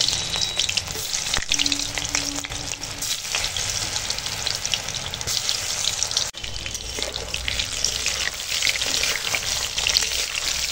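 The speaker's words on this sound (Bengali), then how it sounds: "তো এখন এই মেখে রাখা পটলগুলো ভেজে নেব।" Spiced pointed gourd (potol) fritters frying in hot oil in a wok over a stove, a steady close sizzle that keeps going without pause and carries no talk.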